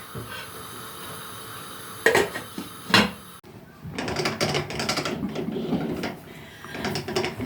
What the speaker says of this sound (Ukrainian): Докручуємо нашу останню баночку.